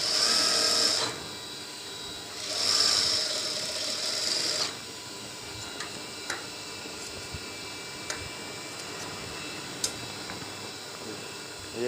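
A sewing machine stitches a kameez sleeve in two close, steady runs: a short burst, a pause, then a longer run, followed by quiet handling with a few faint clicks.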